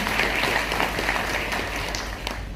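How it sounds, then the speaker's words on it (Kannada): An audience applauding, dense steady clapping from many hands that holds at a constant level for a few seconds. "ನಿಮ್ಮ ಕಡೆಯಿಂದ ಒಂದು ದೊಡ್ಡ ಚಪ್ಪಾಳೆ ಬರಬೇಕು"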